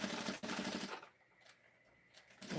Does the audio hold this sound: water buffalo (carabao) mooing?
no